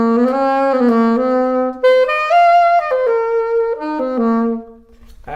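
Baritone saxophone played through a small-tip-opening wooden mouthpiece from France, a loud close phrase of sustained, slurred notes stepping up and down, alone without talking.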